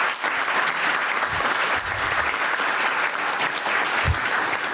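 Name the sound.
applause for school employees at board meeting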